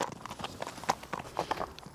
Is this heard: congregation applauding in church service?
no